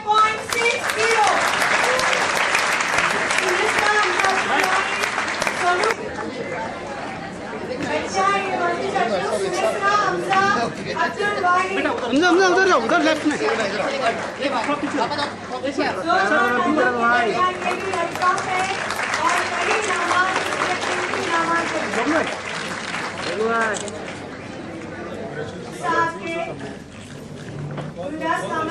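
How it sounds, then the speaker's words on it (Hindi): Loud, sustained applause fills a hall at an NGO prize-giving event, with clapping swelling and easing over a crowd's chatter, and voices talking throughout. "बच्चों ये इनाम बहुत ही कीमती इनाम है, बहुत जोरदार तालियां।"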